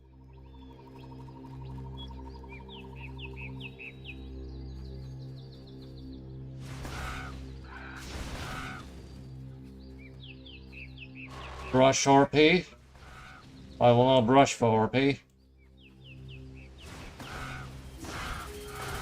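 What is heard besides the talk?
crows cawing in the video game Titan Quest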